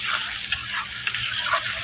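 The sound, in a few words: spice paste with salt and turmeric being stir-fried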